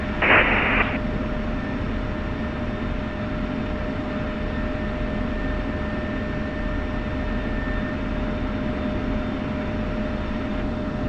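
An F-16 jet taking off from runway 22 in the DCS flight simulator: a loud, steady engine roar with a whining tone holds unbroken throughout, opened by a brief crackling radio burst.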